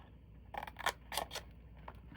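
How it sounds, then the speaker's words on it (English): Scissors snip through paper tabs on a decorative gift box, a few short crisp cuts close by in a quiet room. "I'm going to cut off these 2 tabs."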